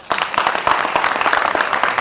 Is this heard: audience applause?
yes